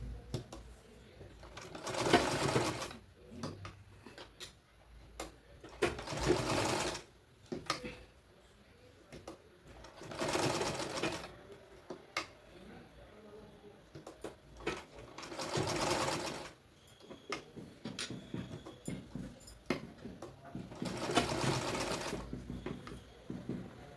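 Electric sewing machine stitching a hook strip on an unlined blouse, running in several bursts of rapid whirring with short pauses between them and no talk.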